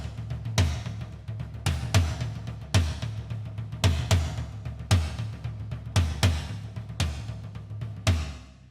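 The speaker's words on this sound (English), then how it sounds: "The intro starts with a tribal sounding tom groove that has a slight swing to it." A tribal-style tom groove played on a drum kit with a slight swing. Deep, resonant tom hits fall in a repeating pattern with accented strokes and lighter ghost notes in between, played steadily and alone.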